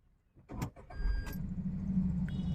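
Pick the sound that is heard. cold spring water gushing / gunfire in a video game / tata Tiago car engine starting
tata Tiago car engine starting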